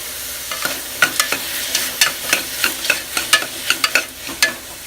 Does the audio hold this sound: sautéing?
yes